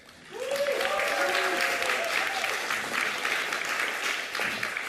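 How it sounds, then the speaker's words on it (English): An audience at a panel discussion on church, state and faith-based services breaks into sustained, even applause that swells quickly and holds steady, while a voice speaks briefly at the start. "you got to give them all a big round of applause"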